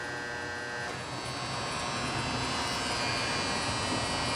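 A used Hardinge 11 x 18 precision toolroom lathe runs steadily with its headstock spinning, giving a continuous, even machine hum and whir that holds at a constant level throughout.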